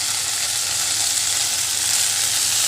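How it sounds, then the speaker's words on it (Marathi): Dill leaves hiss and sizzle steadily in a pan of hot fried onion, a dense, continuous close frying sound with no talking. "कांदा भाजल्याच्या नंतर आपण ह्याच्यात टाकणार आहे शेपूची भाजी."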